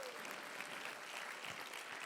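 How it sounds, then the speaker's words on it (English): Audience applause at a Champions for Change awards event, a steady wash of many hands clapping throughout, moderately distant and faint. "I want you all to give yourselves a round of applause."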